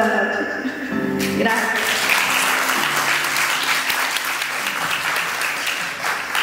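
Loud applause from guests at an 18th birthday party in Trujillo, steady clapping over music that fades out in the first seconds.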